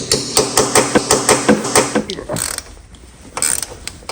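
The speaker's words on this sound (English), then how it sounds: "Line it up a little bit, tap her in." A hammer taps a 1/2-inch 12-point deep socket into place on a John Deere lawn tractor. About a dozen loud, rapid metallic knocks ring out in a steady rhythm, then fade into rattling and clinking.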